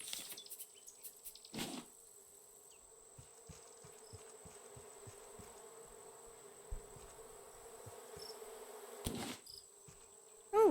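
Bees buzz in a flower field in the video game Raft as a steady, fairly faint drone, with a few soft clicks and taps over it.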